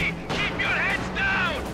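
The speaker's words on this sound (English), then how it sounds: "three mortar firing from nearby as well" Mortars fire nearby in a Company of Heroes 2 1v1 match, with booming artillery blasts bursting in quick succession while a caster talks excitedly over the battle.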